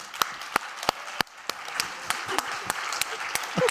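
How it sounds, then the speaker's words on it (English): Sparse clapping from a small group, individual claps ringing out at uneven intervals before thickening slightly into light applause. "let's have a round of applause for Stella"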